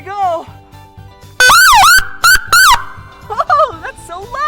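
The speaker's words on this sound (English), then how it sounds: "And what else is also used to let everyone know that there's an emergency is the siren." A loud wailing siren sweeps up and down in bursts, breaking off and restarting, with a voice chattering before and after.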